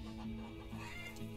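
A hen clucking in the farming game Farmer's Dynasty, a low, steady fowl clucking that fills the short moment on its own, with a soft game background underneath.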